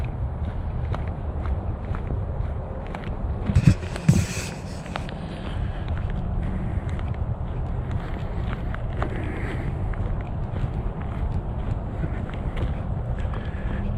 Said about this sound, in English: You can definitely hear the traffic is stronger down here.